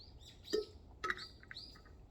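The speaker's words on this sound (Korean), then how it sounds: "새 소리가 들리는" Birds chirp in a garden on a hill, with a few short bright calls and tweets breaking up quiet outdoor background.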